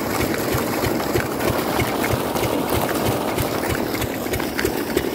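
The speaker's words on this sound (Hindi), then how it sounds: "ये है भाई हाथ वाला इंजन फील्ड मार्शल का, जिससे जो पानी निकाल रहे हैं खेत में सिंचाई करने के लिए" A Field Marshall hand-start diesel engine drives a tube well pump for wheat irrigation on a farm, thumping in a steady, loud, fast rhythm throughout, with no talk over it.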